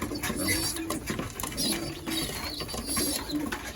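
Racing pigeons cooing in a breeding loft, soft repeated low coos close by with some rustling, while someone talks over them.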